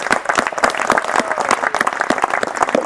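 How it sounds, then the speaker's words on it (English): A crowd at an outdoor ribbon-cutting ceremony at Scotts Flat claps steadily, a dense, even patter of many hands at close range with no talking over it. "want to give a big round of applause for all that volunteer effort"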